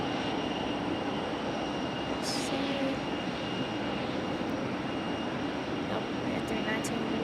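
An Airbus A319 airliner passes over Raleigh Durham International Airport with a steady, broad engine roar that holds loud and even throughout.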